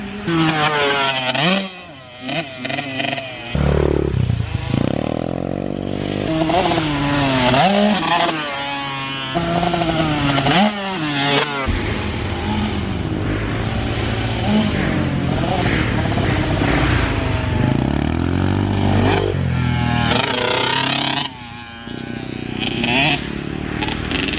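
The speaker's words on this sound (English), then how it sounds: "the bike sounds fun once he hits the power band" A Kawasaki KX65 dirt bike engine revs loudly and close by, its pitch repeatedly climbing and falling through sharp throttle blips, with a few short pauses.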